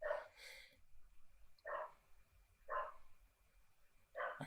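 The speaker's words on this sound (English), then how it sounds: "I like the dogs in the background." Several dogs bark in the distance, four separate short bursts spaced about a second apart against a quiet background.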